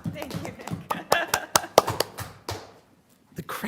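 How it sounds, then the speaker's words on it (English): An audience at a borough work session meeting claps in a short, uneven burst of close hand claps that fades to quiet, followed by a few more taps. "you're clapping for yourselves here"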